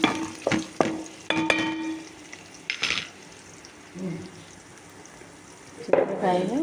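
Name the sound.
onion tempering frying in a pan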